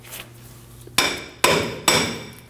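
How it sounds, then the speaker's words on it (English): Three sharp hammer taps on the wheel hub of a 2009-2014 Ford F-150, striking it to free it from the steering knuckle; close, loud and evenly spaced, each ringing briefly before fading. "I'm just going to tap lightly on the hub to get it to release from the knuckle"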